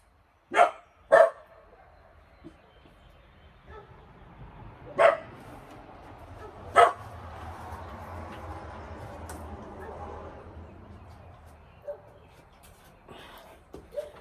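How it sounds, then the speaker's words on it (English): Stray dog barking near a property, a few sharp single barks spaced several seconds apart over a quiet background, fairly close and loud. "must be a stray dog coming out somewhere sitting here at my property barking"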